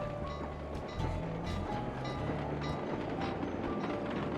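A train rumbles past in the PS2 game Sly 2: Band of Thieves, a quiet, steady low clatter with rhythmic thumps and faint metallic clicks over several seconds.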